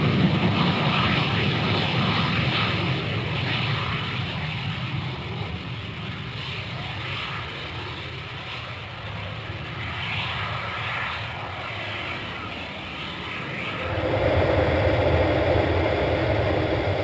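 XCOR X-Racer rocket plane in flight, heard as a steady droning engine roar that dips slightly in the middle and swells louder toward the end, with no speech.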